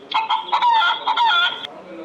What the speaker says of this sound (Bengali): হেন, মুরগি।